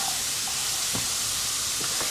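Tempering sizzles in a hot pan with a steady, even hiss throughout, a faint clink or two rising briefly above the frying at moderate volume.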